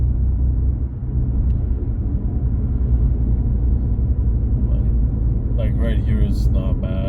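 A car fitted with lowered downpipes and a catalytic converter drives along on a cold, sunny day in Terrebonne, its engine giving a steady, moderate low rumble heard up close; faint voices come in near the end.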